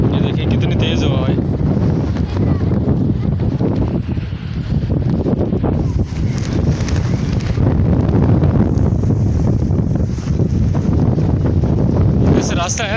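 A heavy windstorm blows hard and without a break, roaring and buffeting close to the microphone, with voices now and then lost beneath the gusts.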